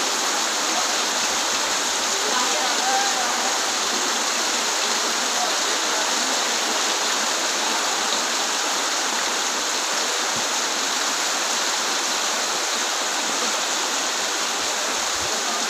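Heavy evening rain pours down at a village market beside a chicken shop, a dense, steady roaring hiss that stays loud and unbroken throughout with no talking.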